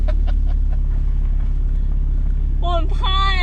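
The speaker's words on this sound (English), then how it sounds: "We're gonna drive off now." Cabin of a 991.2 Porsche 911 Targa 4S pulling away, a low steady engine rumble heard from inside, with a person talking over it toward the end.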